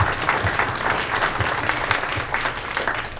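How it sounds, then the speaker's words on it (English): An audience at a campaign kickoff event gives a sustained round of clapping, even and fairly loud, with no voices over it. "Let's give everybody a round of applause again for all of your generous donations"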